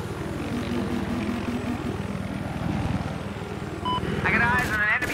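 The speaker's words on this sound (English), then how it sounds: "I got eyes on an enemy chopper." An enemy helicopter in a first-person shooter game drones with a steady rotor and engine roar, loud and close. Game voices and sharp electronic effects come in near the end.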